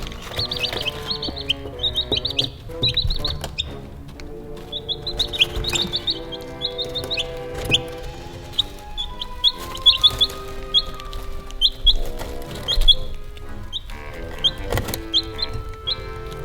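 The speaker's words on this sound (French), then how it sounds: "Tiens, des poussins." Chicks cheep and a mother hen clucks in the nest, repeated high peeping calls in quick bursts over lower clucks, close and fairly loud throughout.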